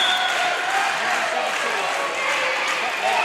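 A standing crowd at Rubin Arena roars and claps through a tense college volleyball match, a dense, steady wash of cheering and applause filling the gym without pause.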